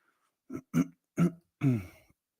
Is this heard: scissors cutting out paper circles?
no